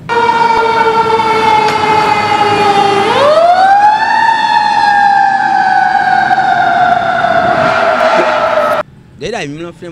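A fire engine siren wails loudly and close, a steady tone sweeping into a rising whoop and then holding a long descending wail for most of the stretch, cutting off abruptly near the end.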